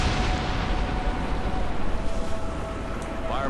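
Fire support explosions in the shooter Ghost Recon Advanced Warfighter 2 form a loud, sustained rumbling roar of blasts that swells and holds steady throughout.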